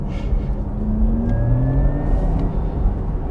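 A Porsche Taycan Cross Turismo electric car in Sports Plus mode gives off a synthetic, spaceship-like whirring hum that rises in pitch as it accelerates on a winding serpentine road, steady and close with no talk.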